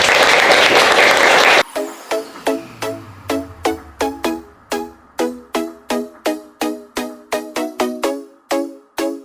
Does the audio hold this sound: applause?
yes